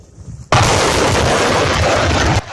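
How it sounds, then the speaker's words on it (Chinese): A BM-21 rocket launcher fires in the Bakhmut area: one loud, sustained roaring blast that starts abruptly and holds for about two seconds before cutting off, close and dominating. "俄军的 BM-21火箭炮猛力开轰"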